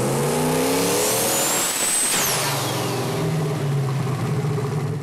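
A boosted Ford 460 V8 running at about 24 pounds of boost on a dyno, loud and close, its pitch climbing then dropping sharply with a whooshing turbo whistle and release before settling into a lower roar.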